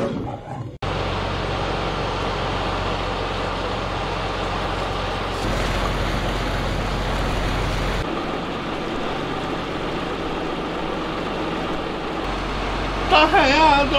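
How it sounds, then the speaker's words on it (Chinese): A fishing boat heads out to sea with its engine droning steadily under rushing water and wind. The hum shifts in level partway through, and people talk over it. "今天咱们已经坐上船了，刚刚出发"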